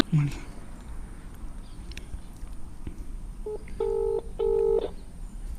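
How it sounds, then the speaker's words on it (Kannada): A phone call being placed, with a short beep followed by two steady electronic ringback tones near the end, heard quietly over low room noise. "ಇವಾಗ ರಿಂಗ್ ಆಗ್ತಿದೆ"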